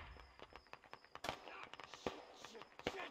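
Faint, distant popping gunfire in the SquadOps video game, a scatter of quick pot shots crackling in the background at low level.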